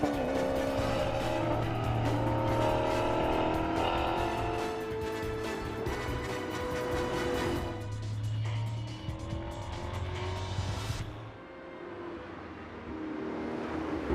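A Maserati GranTurismo MC Stradale coupe accelerating and cornering, its engine roaring loudly and steadily close by with rising and falling revs and a brief tire squeal, no talk.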